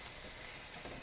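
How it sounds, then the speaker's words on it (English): Onions sauteing in oil in a pan while making stuffed peppers give a steady, soft crackling sizzle, quiet and continuous with no voices. "I want the onions to saute nicely."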